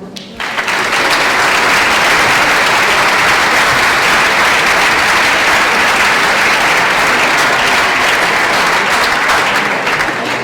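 A packed audience at a Spanish-language book presentation in Catalonia claps in strong, dense, sustained applause, loud and close, with no voices over it for about ten seconds.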